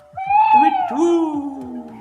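An owl-like hoot in a children's story, two rising and falling tones close and clear, sounding like a voiced imitation of the call rather than a real bird.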